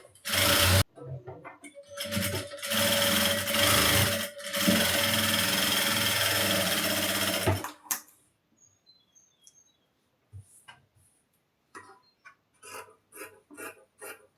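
An electric sewing machine stitches a blouse in a tailoring workshop, a steady loud motorised whir lasting about eight seconds with brief pauses. Quiet clicks and faint chirps follow after it stops.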